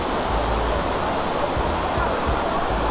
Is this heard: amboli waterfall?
yes